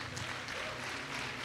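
A church congregation applauds during worship, a steady wash of clapping filling the whole short stretch at moderate level with no clear voice above it.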